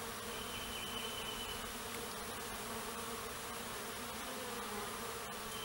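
A honey bee swarm drones steadily at close range around a bait box, a dense, continuous buzz of many insects with no voices.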